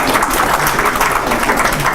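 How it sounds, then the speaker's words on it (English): A conference keynote audience claps together, a loud, steady wash of applause that continues through the whole short stretch. "I think you should give yourself a big clap"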